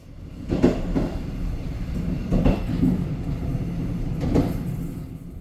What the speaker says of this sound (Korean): 험준한 산맥을 뚫고 달리다 보니 열차의 속도도 평균 50km 정도로 느렸습니다